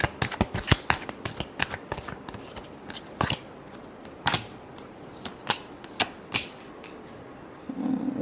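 Playing cards being shuffled, a deck riffled in quick sharp bursts of crisp snapping and fluttering, close and clear with no talking.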